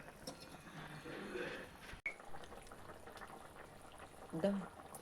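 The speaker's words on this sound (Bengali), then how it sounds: "ঝোলটা একটু জাল হোক" A curry of bata river fish with home-grown greens stalks simmers in a pot as quiet, low bubbling, faint and close, with a sharp knock partway through and some muffled voice in the background.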